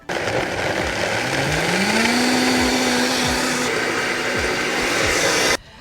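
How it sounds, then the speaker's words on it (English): A loud blender whirs steadily on high for several seconds blending matcha dressing, its motor pitch rising and holding, then cuts off abruptly. "We're gonna put this onto our blender. We're gonna blend on high."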